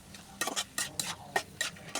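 Maggi noodles are tossed with their spice mix in a pan, giving a quick run of rhythmic scraping and clinking strokes, roughly six or seven in two seconds, close and clear, with no talking.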